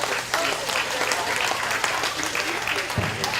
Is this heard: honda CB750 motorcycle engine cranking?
no